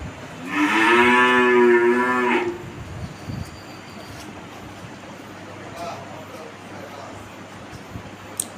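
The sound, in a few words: Holstein Friesian cow mooing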